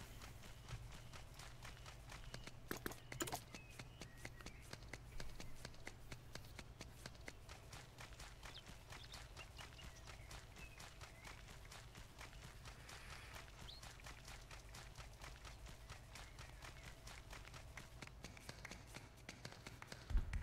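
Steady rhythmic video-game footstep taps of shoes in Bless Online, a quick clip-clop pattern running throughout over a constant low hum, fairly quiet.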